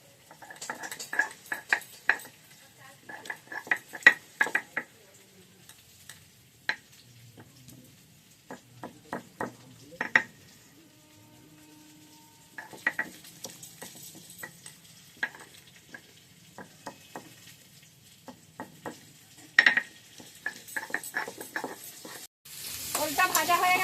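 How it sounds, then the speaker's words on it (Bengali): Elephant foot yam sizzles in mustard oil in a pan while a utensil scrapes and clinks against it in irregular bursts, with quieter pauses between stirring. "ওলটা ওইদিকে ভাজা হচ্ছে হতে থাক"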